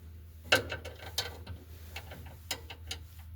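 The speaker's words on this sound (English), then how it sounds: "So this time I've got a little 3/8 inch ratchet wrench." A small 3/8 inch ratchet wrench clicks in short bursts of ratcheting ticks while working on a 15-year-old GE washing machine during a drive belt replacement, close and fairly quiet with no talking.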